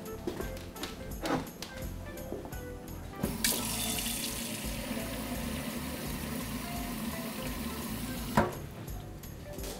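Cold tap water gushes steadily into a sink for cooling boiled lasagna sheets, a continuous close rushing flow lasting several seconds before cutting off.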